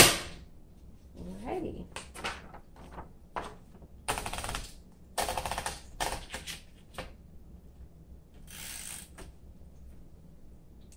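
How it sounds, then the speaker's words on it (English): The ribbon reversal mechanism on a 1942 Royal Companion manual typewriter gives a series of sharp mechanical clicks and clacks in irregular bursts, close up, with a brief spoken word at the start. "So you can reverse the ribbon and get as much use as you can out of the ribbon."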